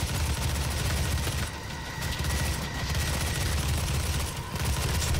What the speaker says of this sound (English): Now what other fun weapons we got here? We got the, micro missiles.